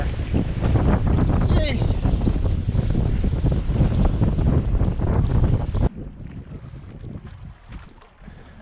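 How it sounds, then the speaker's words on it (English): Strong wind buffeting the microphone aboard a sailboat under full main, loud gusty roar with water rushing, then cutting abruptly to a much quieter stretch near the end; a man briefly exclaims. "Now we got almost a little too much wind for the full main here."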